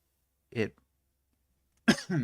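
Two sharp coughs land close to the microphone, separated by a second of silence.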